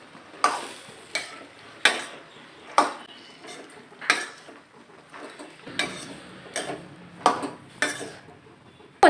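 Black-eyed peas and onion stirred in a frying pan: a spoon scrapes and clacks against the metal in about a dozen distinct strokes, each a sharp near scrape over a faint low background, with no voices.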